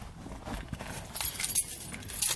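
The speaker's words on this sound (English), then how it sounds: "Got my keys." Keys jangle and clink in short metallic bursts, close by, with some rustling handling noise and no talking.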